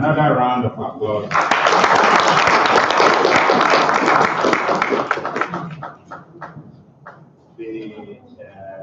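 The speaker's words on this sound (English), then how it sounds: "Another round of applause." Loud audience applause fills a hall at an international workshop on safety culture, breaking in sharply after a speaker's voice, holding strong for several seconds, then thinning into scattered claps as talking resumes.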